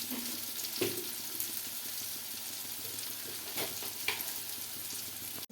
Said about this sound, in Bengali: হলুদ গুঁড়ো নাড়িয়ে নেব।